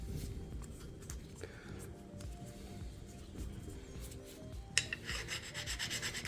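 A file scrapes burrs from a metal engine part during a Datsun L28 engine rebuild: light, close rhythmic rubbing strokes, faint at first, then a quicker run of sharper rasps near the end.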